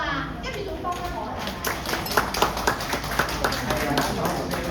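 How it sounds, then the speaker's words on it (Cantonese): Scattered clapping from an audience at a community mental health talk in Wong Tai Sin, Hong Kong, starting quietly and swelling into a run of sharp, uneven hand claps that keep going to the end. "我哋俾啲掌聲佢好唔好啊？"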